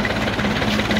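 A tractor engine drives a borewell pump beside a wheat field, a loud, steady low throbbing hum with a regular pulsing beat over one short stretch.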